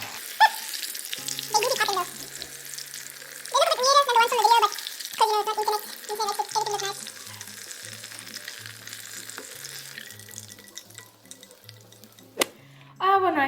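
Chips, or French fries, frying in hot oil, a steady close sizzle and crackle throughout, with voices talking over it at times and occasional clinks.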